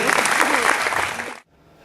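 Audience applause from a crowd at a live show, loud and dense clapping that stops abruptly after about a second and a half.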